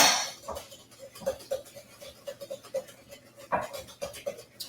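Brown sugar and melted butter stirred together in a bowl for a deep dish sweet potato pie, a steady series of soft scraping clinks of the utensil against the bowl, close and fairly quiet.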